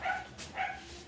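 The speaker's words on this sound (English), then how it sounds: "Wish the dogs would stop barking." Dogs bark faintly in the background of an indoor hair-styling session, two short yips or barks spaced about half a second apart, distant and quiet.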